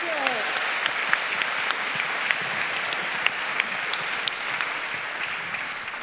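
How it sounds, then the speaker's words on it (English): An audience at a parent education talk applauding, a dense, sustained patter of many hands clapping that stays steady throughout and fades slightly at the end. "Okay, Wendy Mogel, big round of applause."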